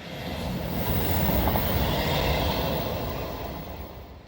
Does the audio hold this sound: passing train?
yes